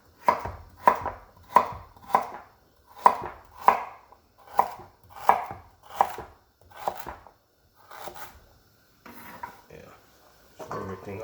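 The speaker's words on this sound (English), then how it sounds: "This is small enough, I can just cut them." Knife chopping vegetables on a board for a Jamaican peanut and gungo peas ital soup, about a dozen sharp evenly spaced chops close by, then quieter scattered cuts and light handling noises.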